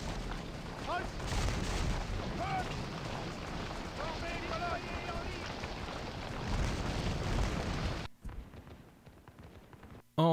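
Artillery fire rumbles in a Waterloo battle game as repeated heavy booms and a continuous roar of battle under someone talking, ending with a short pause and a brief burst.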